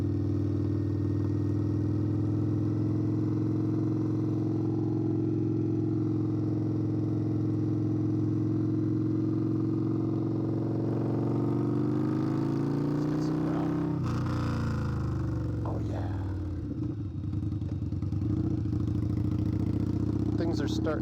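A custom tuned Indian Scout Bobber motorcycle rumbles steadily while being ridden, its deep engine drone running throughout, pitch rising toward the end with some wind and clatter as it picks up speed.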